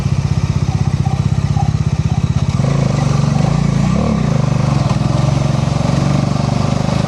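A Bajaj Dominar 400 motorcycle cruises along the Hubli–Dharwad highway, its engine thrumming in a fast steady pulse under strong wind roar, holding a constant loud drone throughout.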